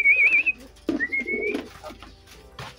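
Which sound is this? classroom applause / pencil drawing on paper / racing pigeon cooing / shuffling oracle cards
racing pigeon cooing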